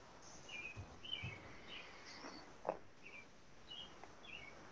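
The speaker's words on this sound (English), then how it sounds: "I hear birds. My window's open." Small birds chirp faintly outside an open window in a scattered series of short, thin calls over a quiet background hiss, with no talking.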